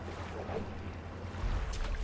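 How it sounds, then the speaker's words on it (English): Foaming sea water from a fishing boat in the video game Dredge, a steady low wash and rumble of waves that swells louder near the end with a brief hiss of spray. "You throw it back into the foaming water."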